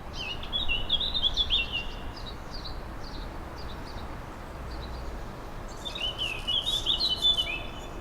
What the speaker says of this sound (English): much more of the peaceful bird noises